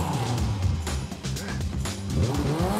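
A Caterham stripped-down sports car accelerates hard through a roundabout on a test track, its engine roaring loud and close while the tires squeal continuously throughout.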